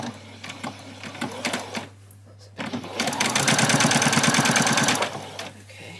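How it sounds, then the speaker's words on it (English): A sewing machine runs a back stitch on an apron in short close bursts, stopping and starting, then a longer steady whirring run of rapid needle clatter before it slows and halts. "Then do a back stitch."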